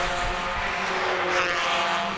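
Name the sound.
race car engines revving up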